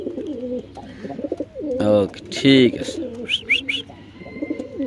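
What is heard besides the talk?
pigeons cooing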